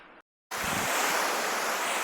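Waves wash onto a white sand beach on Langkawi island in cool, windy weather, a steady broad rushing surf that starts abruptly after a short silence and carries on with wind noise.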